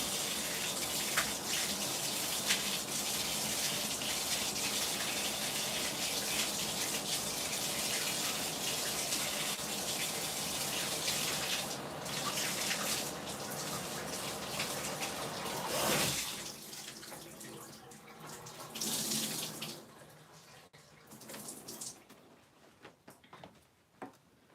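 A bathtub tap gushes water in a steady, hissing stream for about sixteen seconds, then stops. Quieter splashes and drips follow in a small indoor room.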